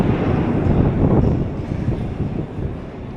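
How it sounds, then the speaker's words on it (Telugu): A Moscow metro train running through Kashirskaya station, a loud, low, steady rumble and roar that eases slightly as it moves away. "ఇప్పుడే ఒక మెట్రో వెళ్ళింది."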